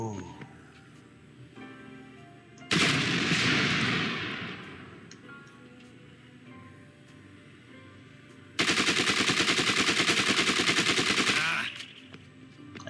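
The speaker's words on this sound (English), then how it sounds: "Now I have room for this mark assault rifle." Two loud bursts of automatic assault rifle fire in the zombie video game Dead Rising 2, a short volley then a longer sustained rattling stream, separated by quieter game ambience.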